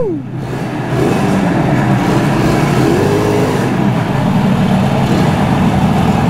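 A Suzuki GT185 motorcycle's two-stroke engine starts and settles into a steady, loud idle that runs close by without pause.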